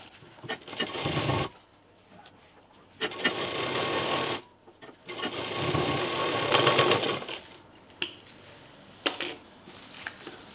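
Sewing machine stitching a belt onto a cloth bag, running in steady whirring bursts of a few seconds each, separated by short quiet pauses and a couple of sharp clicks.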